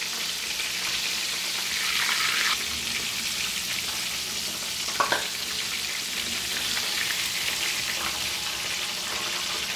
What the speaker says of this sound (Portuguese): eu vou esperar fritar do lado de baixo, depois eu viro